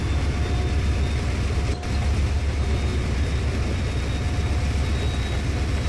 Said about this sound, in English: I just put it up to notch 6. Hence the increase in exhaust from the trail engine.